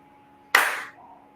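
A single sharp hand clap, close and loud, ringing out briefly against a quiet room background.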